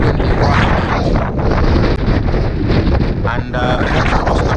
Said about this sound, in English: Very windy right now.